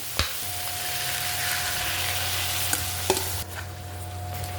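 Mung beans, chicken feet and lemongrass stir-fried in a pan, a steady close sizzle with occasional scraping stirs and light knocks of the utensil.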